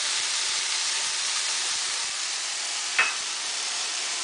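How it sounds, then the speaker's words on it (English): Vegetables sauteing in a pan for stuffed tilapia give a steady, even sizzle and hiss throughout, with a few soft low taps and one brief sharp scrape near the end. "we'll be back right after we're done sauteing the vegetables"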